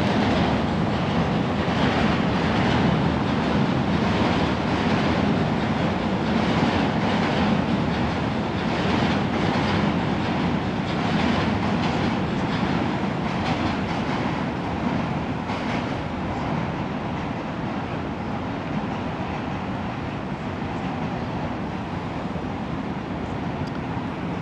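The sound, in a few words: New York City subway train rumbling and clacking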